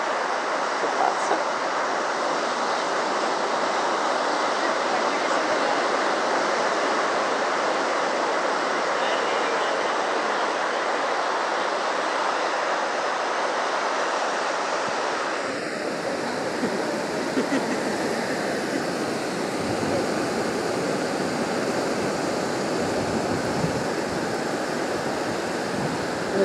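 Indian Ocean surf at sunset on a South Goa beach, a steady broadband wash of breaking waves with rushing wind, growing rougher and more rumbling midway through.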